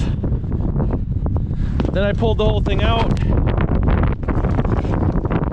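Heavy wind buffeting a microphone, rumbling low and constant, while someone talks over it.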